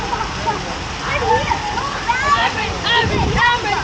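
Water pouring and splashing down an artificial waterfall at a Virginia Beach spot, a continuous close rushing and sloshing with people talking over it.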